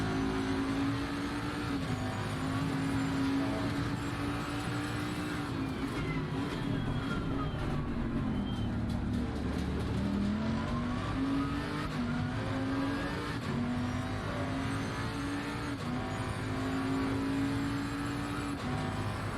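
Race cars lapping the Zolder circuit in a sim racing game, engines droning loud and steady throughout with pitch sweeping down under braking and climbing again on acceleration, several cars running close together.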